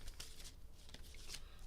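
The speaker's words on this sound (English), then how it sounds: "Here are your 4 official shuffles." Quiet, brisk riffles of playing cards being shuffled, a few short bursts in quick succession, heard close up.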